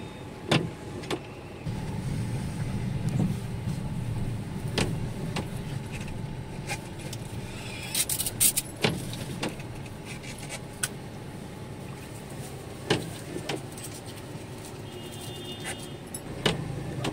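Road traffic on the Mumbai–Goa highway near Kolad, where work is under way on a bridge: a steady rumble of passing vehicles, with sharp clicks and brief mechanical bursts scattered throughout.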